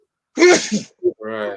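One loud, close sneeze bursting out sharply, followed by a short spoken word from a man.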